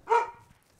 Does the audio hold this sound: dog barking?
yes